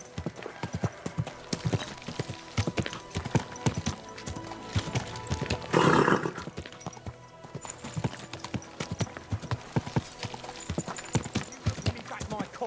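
Horse hooves clip-clopping in a steady walking rhythm, close and continuous, in the medieval video game Kingdom Come: Deliverance 2, with a brief louder rustle partway through.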